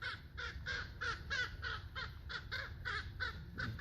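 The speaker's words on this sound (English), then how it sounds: "It's like a crow and a hawk. Man, they're like fighting." Repeated harsh caws from crows in an outdoor tussle with a hawk, about a dozen calls in a steady, insistent rhythm, moderately distant over faint background hum, no talking.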